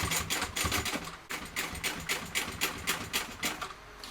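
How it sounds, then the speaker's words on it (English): A sewing machine top stitches through a vinyl bag's exterior and lining, a close, steady rapid chatter of the needle with a couple of short pauses. "I'm top stitching now through my exterior and my lining."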